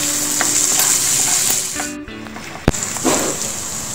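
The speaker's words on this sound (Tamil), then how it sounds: "வந்து பூண்டு போடுறேன்." Chopped garlic hits hot oil for a tomato pickle and sizzles loudly up close. The frying hiss is continuous, broken by a brief dip, a sharp clink of a utensil and stirring scrapes.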